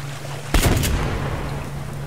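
A single gunshot goes off in a video game, a short sharp crack with a brief rumbling tail over a low steady background hum.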